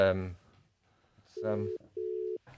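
A telephone call being placed to a friend's phone, with steady ringback tones sounding in two evenly spaced bursts after a brief stretch of talk.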